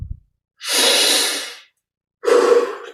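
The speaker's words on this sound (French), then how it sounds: "Expire par la bouche." Two long, breathy exhalations through the mouth during a meditation breathing exercise, close and fairly loud, separated by a silent pause, with a short intake at the start.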